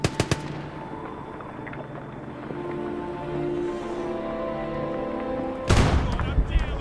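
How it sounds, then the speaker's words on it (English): Enemy artillery fire in a Cold War battle, a sharp cluster of blasts at the start, a low rumbling stretch, then a heavy booming burst near the end, loud and close. "Enemy artillery!"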